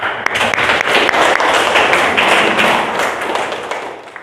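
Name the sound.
applause for a student's answer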